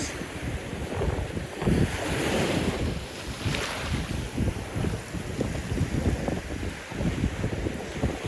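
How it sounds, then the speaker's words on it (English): Ocean water at Sanibel beach washes against a wader's legs as the tide turns, with a sloshing surge under heavy wind buffeting the microphone, swelling and easing unevenly, and no one speaking. "it's low tide, but I think the tide is starting to switch to high tide, so that's why this water keeps brushing against me"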